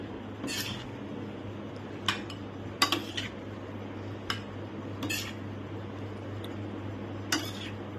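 Utensils scrape and clink against a serving dish while Schezwan pasta is served, giving a handful of light, sparse metallic taps over a steady low hum, fairly quiet and with no talking.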